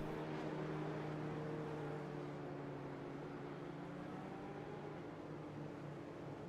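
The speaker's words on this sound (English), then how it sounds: "You can hear drivers carrying a high gear, trying to save as much fuel as possible." Formula 3 race car engines in the iFormula F3 sim racing game, run at low revs in a high gear to save fuel behind the safety car at Emilia Romagna: a steady, droning engine hum that continues throughout, with no speech.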